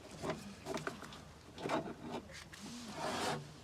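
Plastic trim panel on a Maestro car being worked loose and pried off after its screws are out: several close, scraping rubs and creaks with small knocks, in irregular bursts.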